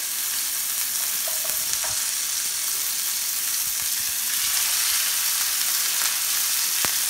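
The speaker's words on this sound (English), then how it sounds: "When you hear the sizzle, it's gonna create a nice crispy exterior, nice crust on our burgers." Beef burger patties sizzle in a hot, lightly greased pan. The frying hiss is steady and close, with a few faint clicks and no talking.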